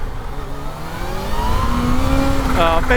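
A Kawasaki Z H2 motorcycle accelerating hard to lift into a wheelie, its engine note climbing steadily in pitch and growing louder over heavy wind rush, close and continuous.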